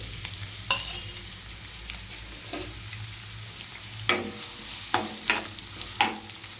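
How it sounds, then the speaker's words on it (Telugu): Onions fry in oil for a chicken curry, a low continuous sizzle close by, punctuated by a handful of sharp spatula scrapes and clinks, heaviest in the last few seconds. "oil పోసాక onions వేసేసేయాలి"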